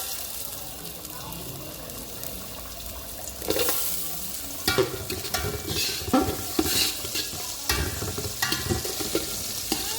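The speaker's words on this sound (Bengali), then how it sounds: "পেঁয়াজটাকে ভালো করে ভেজে নিব" Onions frying in oil in a biryani pot, a steady close sizzle with scraping stirs and clinks of a utensil that grow busier after the first few seconds, with no talk.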